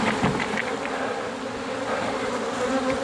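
Honeybees shaken off a hive brood frame buzz in a dense, continuous swarm drone, close and steady, with no voices.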